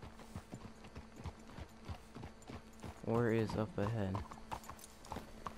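Horses in the video game Red Dead Redemption 2 clip-clop at a steady walking pace, with a loud whinny partway through, while people talk over the hoofbeats.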